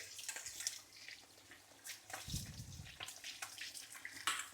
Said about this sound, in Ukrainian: Включаю холодну воду. І ось так гарно його промиваю.